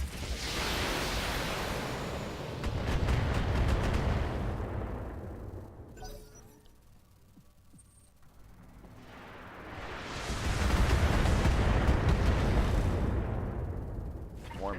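Heavy missile volleys and weapon fire from the BattleTech video game roar in two long, dense waves, loud and sustained, with a quieter lull between them.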